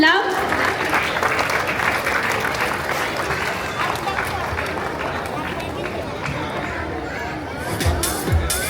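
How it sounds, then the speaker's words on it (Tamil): A crowd at a dance night event applauds steadily and loudly for several seconds, with murmuring voices and some cheering mixed into the clapping. "மக்களே ஒரு நல்ல கைத்தட்டல் கொடுத்துடலாம்."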